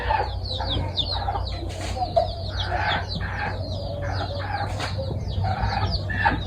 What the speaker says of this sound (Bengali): কিছু মুরগি খুবই চঞ্চল দেখছি, এটা খুবই চঞ্চল।